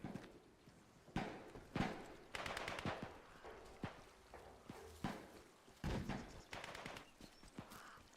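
Gunfire battle in the post-apocalyptic video game Atomfall, with sharp irregular shots and bursts cracking repeatedly over a busy, fairly faint background of game noise, no voices.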